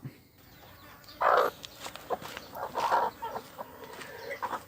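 A hen clucks and squawks nearby in short bursts over a quiet outdoor background.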